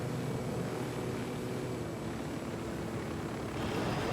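A helicopter in the video game Ghost Recon Wildlands gives a continuous loud rotor and engine drone, steady throughout with no talking.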